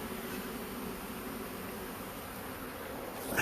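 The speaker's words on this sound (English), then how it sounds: "This thing is absolutely jam-packed full of bees." Honeybees crowd a packed hive box in a steady, dense buzz that holds evenly for the whole span, close and fairly loud, with no talking.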